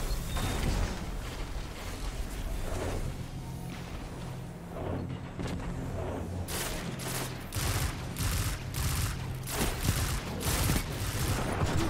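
In Destiny, a Hunter's Blade Barrage super fires a volley of explosive knives. A dense fusillade of bursts and booms builds into rapid, evenly spaced blasts in the second half, loud and close.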